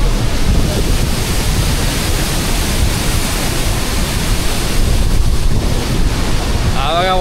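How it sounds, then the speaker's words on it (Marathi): Waterfall at Batta Falls near Mussoorie, Uttarakhand, a steady broadband roar of rushing water that fills the whole stretch at constant loudness, with some wind buffeting the microphone. "हा बघा वॉटरफॉल"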